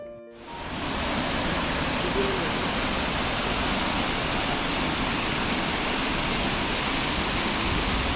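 Multnomah Falls in the Columbia River Gorge, heard from the viewing area at the base, pours as a dense, steady roar of falling water that fills the whole clip, loud and unbroken, with no voices over it.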